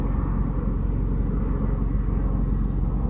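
A turbocharged 8th-generation Honda Civic with a custom intake idles at a red light, a steady low engine rumble and hum heard from inside the car, even and unbroken throughout.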